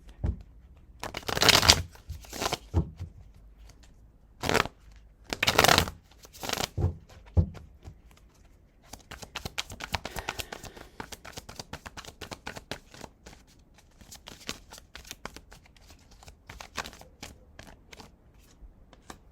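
Tarot cards being shuffled by hand, with several loud riffling bursts early on, then a long stretch of softer, rapid card slides and flicks, close and with no talking.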